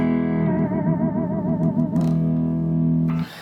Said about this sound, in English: that's how that Floyd Rose system works, and it sounds like this.